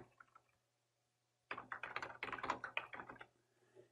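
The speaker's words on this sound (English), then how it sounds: "we're going to type a new message here" Someone types a new chat message on a computer keyboard in Microsoft Teams: a brief tap at first, a pause, then a dense, close burst of rapid keystrokes over a steady low hum.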